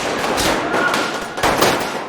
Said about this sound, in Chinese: 走廊里不明所以的士兵纷纷探头拔枪互射